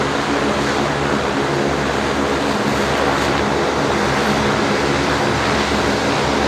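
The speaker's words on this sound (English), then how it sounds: "And off goes the Rex Saab 340 for its final flight of the day" A Rex Saab 340 turboprop takes off from Brisbane Airport, producing a loud, continuous roar of engine and propeller noise that holds steady for the whole clip.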